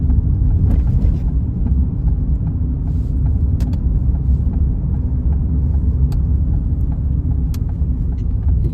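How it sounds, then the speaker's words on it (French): A Ford Fiesta accelerates hard along a straight road toward about 80 km/h, heard from inside as a loud, steady low engine and road rumble with a few faint clicks and no talking. "si la ligne droite est libre, on va se faire une accélération, comme je vous ai dit, assez franche"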